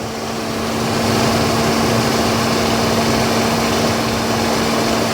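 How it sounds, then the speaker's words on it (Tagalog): A car's radiator cooling fan kicks in on its own as the engine runs hot, producing a steady, loud whirring drone with a constant hum that swells over the first second and then holds evenly without speech. "Tapos tingnan natin kung mag-automatic na ulit yung fan natin. Yan. Gumana na siya guys."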